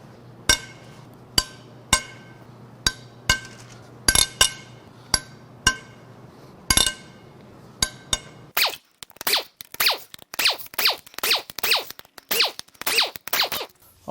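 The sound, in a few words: loosening engine head bolts on a Mitsubishi 4B11T engine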